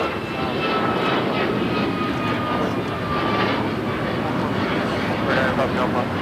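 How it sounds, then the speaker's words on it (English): Alaska Airlines Boeing 737 MAX 8 in a special livery taking off from runway 25 at LAX, a steady broadband jet roar filling the whole stretch at moderate distance, with people talking over it. "284 taking off to Newark on the MAX 8 in the Honoring Those Who Serve livery"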